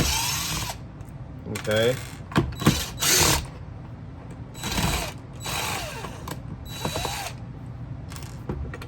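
A power tool driver whirs and ratchets in short bursts as screws come out of a restorer tool's body to split it apart, close and intermittent, with someone speaking briefly between bursts.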